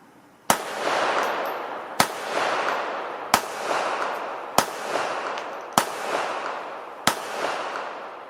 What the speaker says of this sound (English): I was able to get 6 rounds successfully fired from here